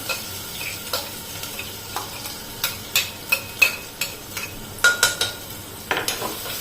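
Ground masala paste with curry leaves and asafoetida is sautéed in a pan, giving a soft low sizzle broken by repeated spoon scrapes and clinks against the metal, which grow busier toward the end.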